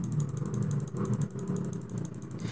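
Motorcycle and car engines rumble steadily outside, a continuous low traffic drone with no talk over it.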